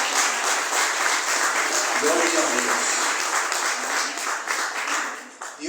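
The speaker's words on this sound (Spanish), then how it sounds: "¿Se anima a dar un aplauso al Señor?" A church congregation breaks into sustained, dense applause, loud and even, while a voice briefly calls out over it partway through.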